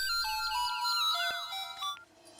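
A short electronic ringtone melody plays, bright and tonal, cutting off after about two seconds.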